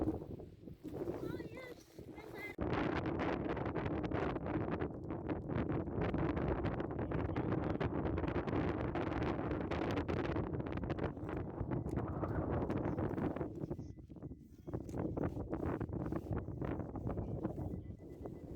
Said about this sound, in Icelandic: Það er vindur sem blæs hér Reynir.